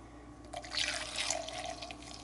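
Hot black coffee is poured over butter, a soft, faint liquid splash and trickle that swells for about a second and then tapers off in a quiet room.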